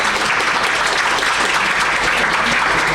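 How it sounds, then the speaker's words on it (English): Sustained audience applause at an awards ceremony for crime-writing prizes, steady dense clapping filling the whole stretch at close, loud level with no voices. "We're just going to read out their names and we're going to give them a round of applause."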